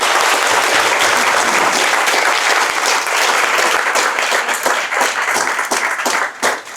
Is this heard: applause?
yes